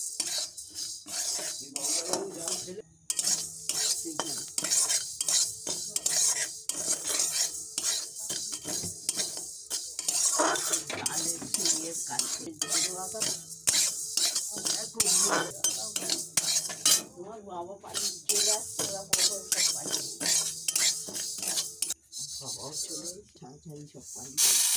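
Sona moong dal dry-roasts in a pan, stirred continuously with a utensil, producing a rapid rasping scrape and clatter of grains against metal throughout.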